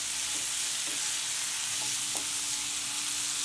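Tomato chutney with tamarind being stirred in a pan, a continuous bright sizzle with a few soft spoon knocks, close and steady, no voices.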